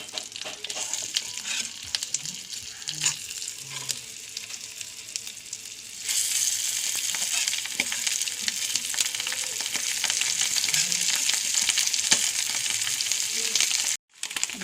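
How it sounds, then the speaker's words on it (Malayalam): Dried ponyfish fries in hot oil with a steady hiss that swells louder partway through, punctuated by light crackles and occasional spatula scrapes. "ഉണക്ക മീനാണ് വറുക്കുന്നത്"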